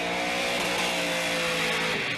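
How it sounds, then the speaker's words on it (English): A Formula Drift car's engine howls and surges under repeated clutch kicks at the 2014 Round 6 event in Texas, loud and continuous with wavering revs and a steady roar throughout. "you can hear him just clutch kicking that thing."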